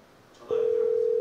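A telephone line tone sounds while a call connects during a Korean news commentary broadcast: a soft click and brief rustle, then a steady, clear continuous tone that holds to the end.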